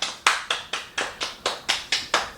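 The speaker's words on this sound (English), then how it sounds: "Y'all did great. Round of applause." On a podcast, a single pair of hands claps close to the mic, about nine sharp, evenly spaced claps with no other voices.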